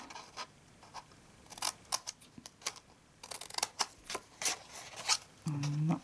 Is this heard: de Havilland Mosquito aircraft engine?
no